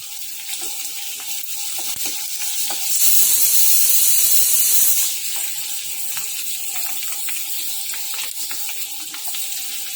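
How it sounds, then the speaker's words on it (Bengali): Dried hilsa fish frying in hot oil, a constant close sizzle that surges into a loud hissing roar for about two seconds before settling back to steady crackling. "ভালো করে ভাজবো।"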